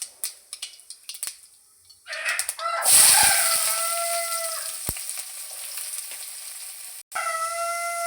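Chopped onions hit hot oil with mustard seeds in a sudden loud sizzle that settles into steady frying, after a few light clinks and taps; a brief pause, then sizzling resumes.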